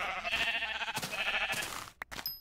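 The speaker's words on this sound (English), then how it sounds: "Get over here, sheep." A sheep in Minecraft beta bleats a few times in wavering, nasal calls, close and fairly loud, with brief clicks and game sounds near the end.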